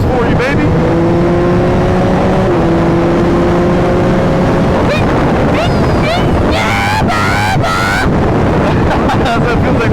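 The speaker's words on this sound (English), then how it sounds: "that Akrapovic exhaust for you, baby" A 2021 Yamaha MT-09 motorcycle fitted with an Akrapovic exhaust revs loudly through its gears, the engine note climbing and dropping, with heavy wind buffeting and a voice heard over the engine.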